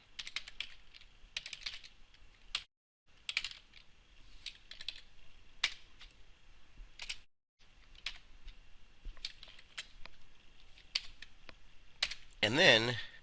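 Typing on a computer keyboard while changing code for a web application's database calls, a steady run of close, crisp key clicks in bursts with brief pauses, ending in a denser clatter.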